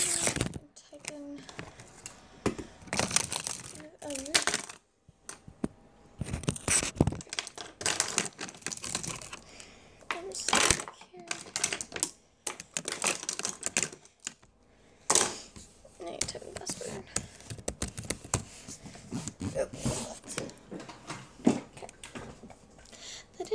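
A password typed on a computer keyboard in quick bursts of close key clicks that alternate with pauses, under a person speaking intermittently.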